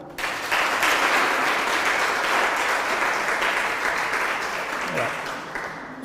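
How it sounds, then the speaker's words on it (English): Students at a national Bible quiz contest between Accra Girls SHS and Holy Trinity Cathedral SHS clap for the contestants, a steady wash of applause that starts abruptly and holds evenly, with faint voices underneath. "They still deserve a clap"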